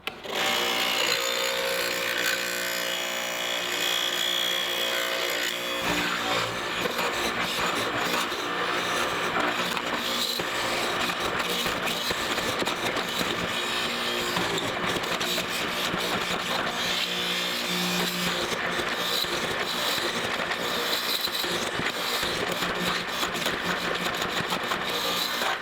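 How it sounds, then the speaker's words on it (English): A power tool cuts mortises into vertical wooden boards for a mortise-and-tenon garden gate. It makes a loud, steady, grinding roar that runs without a break for the whole stretch, with no talking over it. "Now we need to go ahead and put our mortises in our vertical boards."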